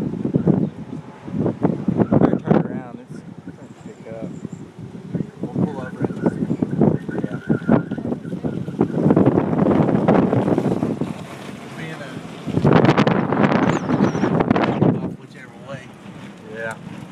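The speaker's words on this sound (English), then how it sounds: "the wind's getting harder" Strong wind roars near an Oklahoma tornado, buffeting the microphone in loud gusts that swell and ease, with people talking under and between the blasts.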